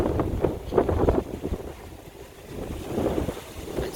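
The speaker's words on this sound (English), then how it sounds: "These gusts are frequent." Strong Santa Ana winds in California in 2019 gust in repeated surges, producing a rough, buffeting roar that rises and falls several times.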